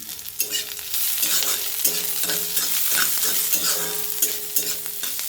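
Ginger and green chilies fry in a pan with a constant close sizzle, broken by repeated scraping strokes of a spoon stirring them at an even rhythm.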